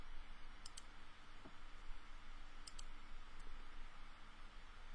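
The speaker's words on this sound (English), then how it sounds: "I'm just using the keyboard to type those." A few sparse, soft clicks from typing on a computer keyboard, quiet and isolated against a steady low hiss with no talking.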